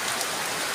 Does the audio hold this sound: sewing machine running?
no